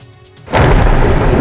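A loud, sudden onset of heavy broadband noise after a quiet start, like a monsoon downpour or rumbling thunder in Gujarat, continuing steadily to the end.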